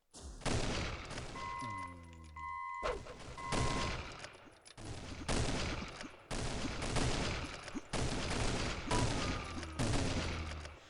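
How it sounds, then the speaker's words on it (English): Sniper gunfire in a video game: loud, close shots fire in repeated heavy bursts throughout, with short gaps between volleys and no talking. "I can snipe people now"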